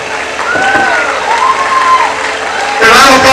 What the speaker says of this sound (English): A round of applause once more for Mrs. Oshuntui.